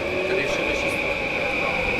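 Tokyo metro train running above ground outdoors, a loud continuous rumble and rolling rail noise with a steady high whine, under someone talking.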